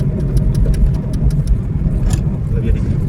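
Big trucks rush past at speed on a narrow one-way mountain road, their engines forming a steady, loud, close rumble with no pauses. A voice may be talking over the traffic.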